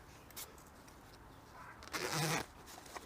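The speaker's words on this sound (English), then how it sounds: "they have zippers that they attach to the pack, one on each side, and you can zip them together" Zippers on the side pouches of a backpack are pulled and zipped together, giving a short rasp followed by a longer, louder zipping run, close up and quiet, with no voices.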